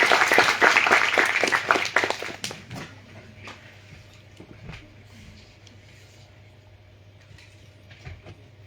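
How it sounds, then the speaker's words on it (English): Audience applause welcoming a lecturer onto a stage, loud dense clapping for the first two seconds and then fading fast into quiet room tone with a few scattered claps. "with a resounding sound of applause"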